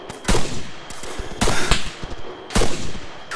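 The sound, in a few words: gunfire from rifle in video game Arma 3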